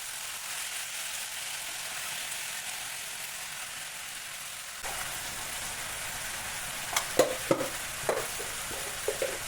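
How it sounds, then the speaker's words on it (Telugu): Brinjal pieces with turmeric and salt sizzle in a pan, a steady soft frying hiss with a run of sharper scraping stir strokes near the end. "తరిగి పెట్టుకున్న వంకాయ ముక్కలు వేసి పసుపు చిటికెడు ఉప్పు స్పూనున్నర వేసి బాగా కలిపి మూత పెట్టుకోవాలి"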